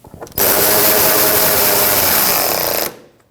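A power tool whirs steadily for about two and a half seconds as it drives an 8mm bolt into the radiator shroud of a 2012-2021 Nissan NV2500 with a 5.6L V8. The sound is loud and close, starting abruptly and then winding down.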